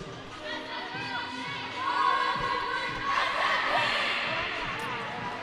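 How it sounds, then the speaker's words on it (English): A team cheer at a youth water polo game, with young voices shouting together over crowd chatter and noise echoing around an indoor pool, swelling louder midway through. "Dark team with the cheer."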